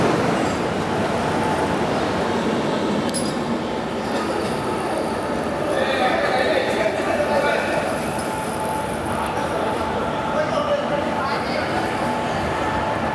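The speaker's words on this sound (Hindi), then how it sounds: "चार 4:45 पर हमारी ट्रेन निकल रही है चक्रधरपुर से।" Hazur Sahib Nanded Santragachi SF Express pulling out of Chakradharpur, a steady broadband rumble of rolling coaches with faint wheel squeal, heard continuously under voices and station chatter.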